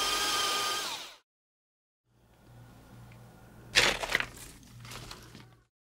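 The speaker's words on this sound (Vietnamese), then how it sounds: "Tỏi này thì mình xay nhuyễn hơn một chút để phi vàng nha các bạn." A blender grinds garlic finely, giving a short, loud whirring burst that cuts off abruptly. After a pause come scattered cracking and clattering handling sounds nearby.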